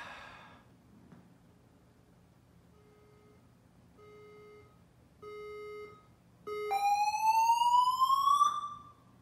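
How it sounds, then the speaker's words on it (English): An indoor fire alarm under test sounds in rising stages: a few short faint beeps, then longer tones, then a loud steady electronic wail that sweeps upward, alone in a quiet room. "Don't test the fire alarm during my video!"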